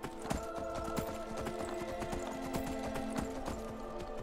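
Repeated hoofbeats clop in a quick, uneven rhythm, fairly faint, like a horse trotting over hard ground with a low background hum, in the video game Skyrim.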